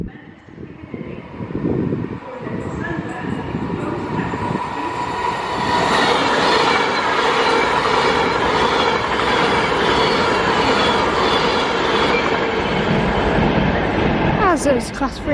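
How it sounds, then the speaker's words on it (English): Class 390 electric train departing Crewe on a service to London Euston, a loud, steady rumble and rising hum as it pulls away close by, with rhythmic wheel clatter and brief squeals near the end. "As there's class 390 work service to London Euston from Edinburgh Waverley, I think, or Glasgow, as off it goes"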